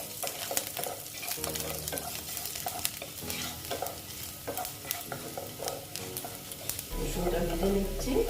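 Chopped garlic frying in a pan for a bitter gourd pickle-style curry, a steady sizzle with frequent spatula scrapes and clinks, louder bubbling toward the end, with a voice talking faintly at times.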